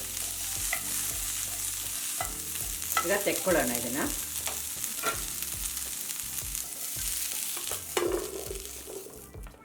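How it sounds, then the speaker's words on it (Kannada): Steady sizzling from a hot pan on high flame with repeated scraping and clattering as cauliflower is stirred; a voice speaks briefly near the start. "ಹೈ ಫ್ಲೇಮಲ್ಲೇ 1 ನಿಮಿಷ ಹುರ್ಕೊಂಡಿರೋದು."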